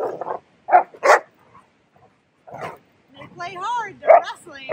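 Bernese mountain dog puppies wrestling, giving short yips, growls and barks in scattered bursts close by, with a person talking in between.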